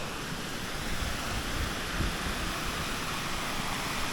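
Water flowing at an old copper mine, a steady, full rushing roar like a stream or cascade, close and unbroken for several seconds, with no one speaking.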